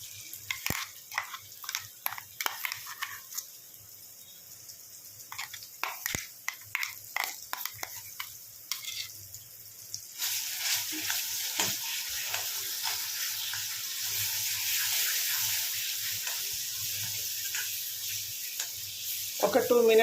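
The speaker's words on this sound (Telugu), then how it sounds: "ఇప్పుడు మిక్సీ పట్టుకున్న చింతపండుని వేసుకుందాము" Ground tamarind paste hits a sizzling tempering in a pan, giving crackly bursts and clicks for about ten seconds, then settling into a steady, louder hiss of frying close by.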